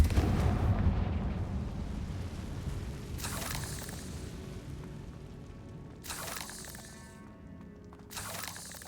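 A Confringo fire spell in the video game Hogwarts Legacy gives a heavy blast, then a rumbling roar that fades, with two more short crackling bursts later in the clip and no talking.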